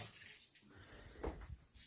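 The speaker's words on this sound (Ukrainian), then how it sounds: "Треба прийняти швиденько душ" Water from a shower runs in a steady, hissing rush, faint and continuous, with no one talking over it.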